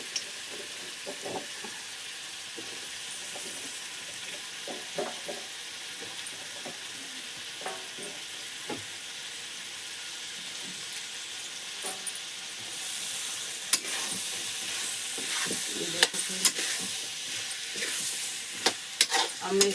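Pumpkin hits spiced oil in a home kitchen, followed by a soft sizzle with scattered stirring clicks that grows louder and more crackly toward the end.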